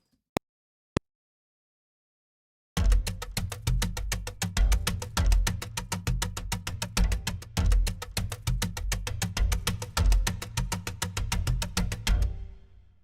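Percussion from the Audio Ollie RCD Acoustic plugin opens with two isolated clicks, then a steady, dense groove of rapid, evenly spaced hits. The hits carry strong low thumps and play loud and alone for about ten seconds before stopping.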